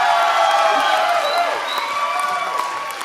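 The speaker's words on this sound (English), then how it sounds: "this crowd screams so loud" A live comedy show audience cheers and screams loudly, a dense sustained roar of whoops and shrieks throughout, with brief voices mixed in.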